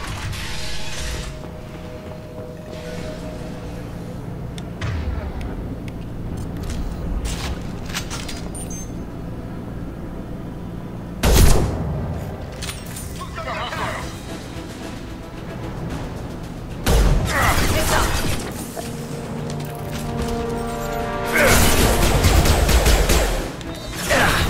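Sustained gunfire from Blue Suns mercenaries and Vorcha in a Mass Effect 2 quarantine-zone battle, with loud crackling bursts and sharp blasts layered over a dense, continuous din of combat.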